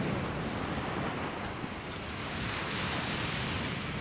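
Ocean surf at night rolls in as a steady, broad wash of waves, with wind buffeting the microphone and no speech over it.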